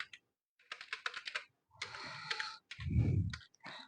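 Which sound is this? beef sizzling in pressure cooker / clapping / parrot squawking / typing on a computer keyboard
typing on a computer keyboard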